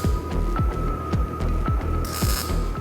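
A blacksmith's forge heats two pieces of fluxed metal for forge welding, giving a loud, steady roaring hum with a pulsing throb repeating about every quarter second.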